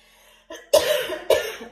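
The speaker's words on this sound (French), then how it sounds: "Le café me fait tousser." Two sharp, loud coughs close to the microphone, preceded by a brief throat sound, with short pauses between.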